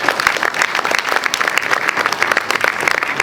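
Audience applause at a horror film festival in Boulogne, honoring the festival's partners: dense, steady clapping from a packed room, loud and sustained throughout with no voice on top.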